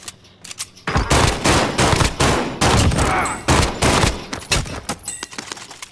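Dense automatic gunfire crackles in a Call of Duty Warzone Resurgence match, with rapid overlapping bursts and single shots, loud and close, mixed with scattered game effects and no talking.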